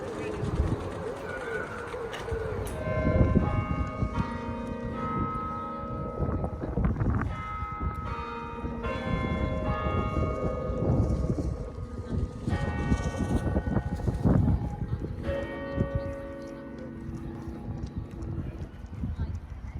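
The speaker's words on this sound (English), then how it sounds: "the most striking remnant of the abbey is the wonderful bell tower that towers above Abbey Park" Church bells ring from the 33-metre bell tower of Evesham Abbey above Abbey Park, a steady run of bright tolling strikes heard outdoors, mixed with birds and horse hooves, with people talking nearby.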